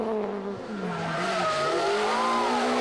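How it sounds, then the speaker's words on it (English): Rally car at Rally Madeira 2006 spinning its wheels, tyres squealing and smoking in a loud sustained wavering screech over engine noise, close by. "smoking the tyres"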